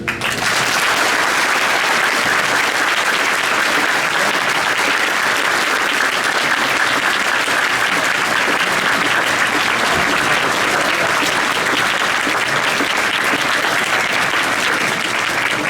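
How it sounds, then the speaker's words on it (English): Sustained applause from a large crowd at a September 11 Freedom Walk memorial gathering, a dense steady clapping roar that holds at full strength throughout with no talk on top. "Let's give one more round of applause, please"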